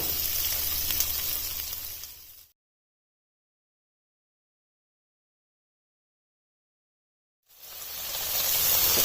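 Green capsicum and onions sizzle loudly in a pan for chicken jalfrezi, a steady hissing fry for about two seconds, then a gap of silence before the sizzling returns.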